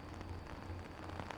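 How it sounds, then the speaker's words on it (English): Steady, quiet rain drones under a low hum, with soft rustling of trees in the wind, a continuous wash of noise with no distinct drops. "The rustling of the trees and the calm drone of the rain."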